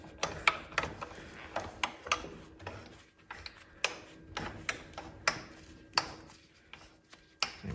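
Bolts tightened by hand tool on a snow bike build, a close series of quick ratchet-like clicks and ticks in irregular bursts with short pauses, fairly quiet.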